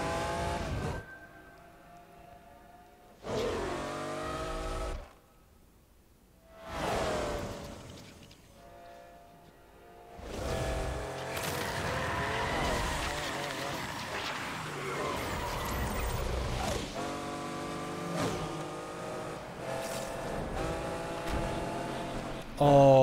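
A car engine in Need for Speed Unbound revs in rising bursts separated by brief pauses, then holds a loud, sustained acceleration roar, with voices speaking over it at times.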